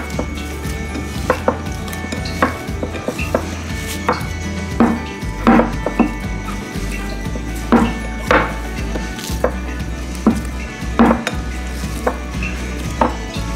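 Masa dough balls mixed with salt and oil, stirred and worked by hand in a bowl, producing soft repeated knocks and scrapes at an uneven rhythm, close up with no talking.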